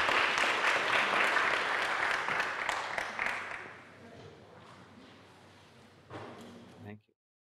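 Audience applause at a literary festival event in Sopot fills the first few seconds loudly, then thins into scattered claps and room noise before a short final burst; speech is heard over it.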